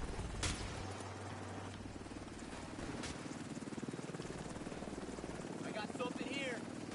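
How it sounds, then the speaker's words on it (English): A video game helicopter thrums in a rapid, steady rotor chop at moderate distance, a continuous beating pulse under players' voices and brief game sounds. "Incoming helicopter."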